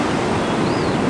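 Ocean waves rolling onto Paria Beach after a flood, a dense continuous wash of surf close to the microphone with some wind rumble.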